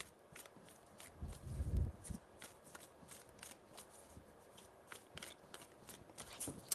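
Tarot cards being shuffled by hand, a soft riffling and sliding with a few heavier bursts, steady and close, with no voices.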